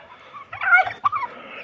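Close chicken calls, a few short throaty clucks and warbling squawks in a quick cluster.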